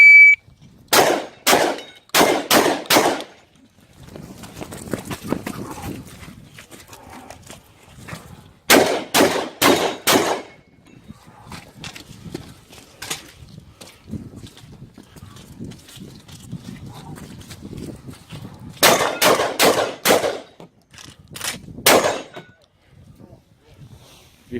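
Rapid bursts of pistol gunfire in a practical shooting stage, three volleys of four or five sharp cracks fired on the move, with footsteps, rustling and someone talking between strings.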